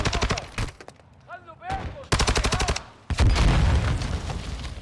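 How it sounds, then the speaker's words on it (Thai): Bursts of rapid gunfire in Call of Duty Modern Warfare II DMZ crackle alongside a loud boom as a boat is blown up, with brief voices in between; the shots come in quick, rattling volleys. "เรือโดนยิงระเบิด"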